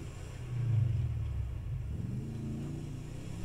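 A beat-up hoopty car struggles through snow in GTA V, its engine a low steady rumble that swells into a heavier surge early on before settling back to a constant drone, with no one speaking.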